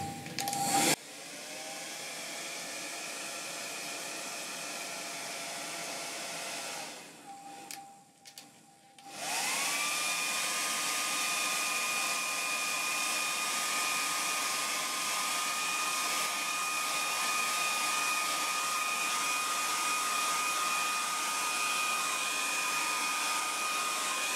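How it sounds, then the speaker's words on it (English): A hair dryer blows steadily at close range with a constant high whine, cutting out briefly before starting up again and running on. "Get the old hairdryer out."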